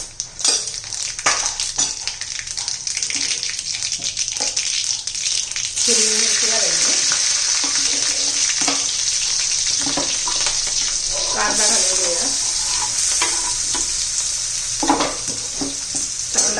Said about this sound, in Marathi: त्यात आता मोहरी घालायची आहे जिरं घालायचं